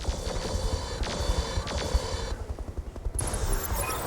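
Mech weapons fire in the Battletech Roguetech mod: a dense barrage of repeated gunshots and heavy bursts, loud and close, rolling on continuously with a short lull before another volley.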